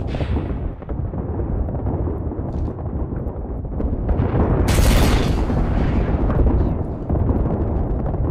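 Frag grenade explosion in Apex Legends: a loud, close, rumbling boom with a sharp bright burst midway, then a long low roar tailing off.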